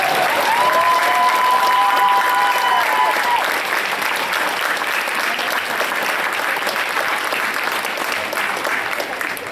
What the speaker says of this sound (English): If we could give a very, very big Nebraska round of applause for Mike Raber.